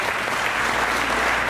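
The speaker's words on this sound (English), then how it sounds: "Could you give these people a round of applause?" Church audience applauding a pastor couple, a dense, continuous burst of clapping from a crowd, loud and steady throughout.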